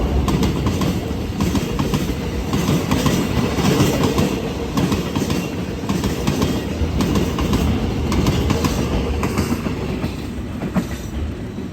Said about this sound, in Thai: เป็นขบวนรถสินค้าขบวนที่ 2125ต้นทางจากย่านพหลโยธิน ไปทางท่าเรือแหลมฉบัง ผ่านชุมทางบางซื่อครับ